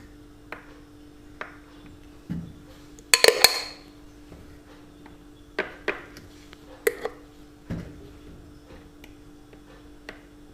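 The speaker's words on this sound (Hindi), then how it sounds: "आप चम्मच की मदद से ऐसे एक एक ये डालते जाएं आप।" A spoon scoops paste into an ice cube tray in a kitchen, giving scattered light clinks and taps of metal against plastic, sparse and close, with a brighter clatter in the middle.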